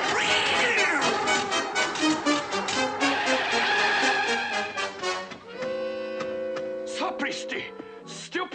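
Animated cat meowing and caterwauling in a drawn-out, wavering cry, loud and close, in the 1970 film The Aristocats, over orchestral music with short voiced calls near the end.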